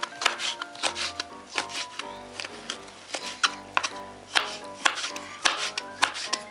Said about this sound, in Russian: Вот перец я хочу порезать соломкой.